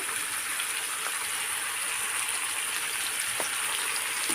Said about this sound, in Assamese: এতিয়া মাংসখিনি ভালদৰে লৰাই দিওঁ